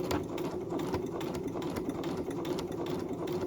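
A sewing machine stitching fabric for a beginner project, a continuous close mechanical whir with a fast even needle rhythm, running throughout with no talk.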